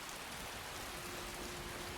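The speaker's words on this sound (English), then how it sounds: "It's still raining, and I'm really getting fed up with the weather here" Rain falling steadily in the video game Skyrim, a constant soft hiss of drops on surfaces with a faint, unbroken background tone.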